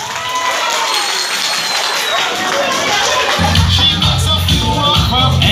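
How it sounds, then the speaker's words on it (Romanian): Children's audience at a mayor-hosted kids' show applauding and cheering, a continuous loud wash of clapping and shouts that grows fuller partway through. "Aplauze pentru Maria!"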